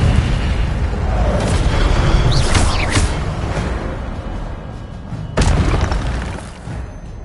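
A fire spell is cast in Hogwarts Legacy, with booming magical bursts and a crackling whoosh of flame, loud and close, followed by further sharp spell impacts and a lingering rumble.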